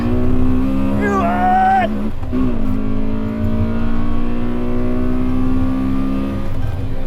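A K-Series-swapped Honda Civic EG accelerates hard on a race track, its engine note climbing steeply, dropping at a quick gear change, then pulling strongly again, loud and close from inside the car.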